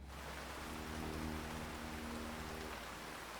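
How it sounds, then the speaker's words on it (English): Steady rain patters continuously, a soft wash of noise with a low rumble underneath. It is quiet and there is no talking. "It actually is raining."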